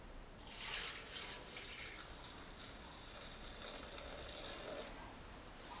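Water pours steadily into a blender jar while preparing a Christmas chicken seasoning, a continuous splashing trickle heard close and fairly quiet.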